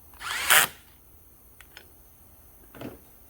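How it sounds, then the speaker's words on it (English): A power drill gives one short, loud whir while drilling a hole near a car battery, followed by a few faint clicks and a softer burst of handling noise. "I'm going to drill a hole in here"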